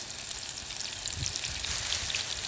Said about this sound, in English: Don't know if you can hear that sizzle, maybe you can.